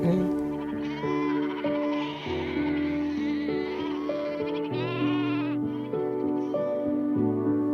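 A large flock of sheep, some three thousand head, bleats nearly nonstop with overlapping loud, wavering calls from many animals at once, both close and further off.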